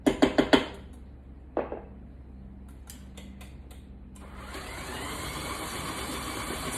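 An electric hand mixer whisks Irish cream chocolate bundt cake batter, starting after a few sharp knocks and a brief bang, then a steady whirring drone that builds louder toward the end.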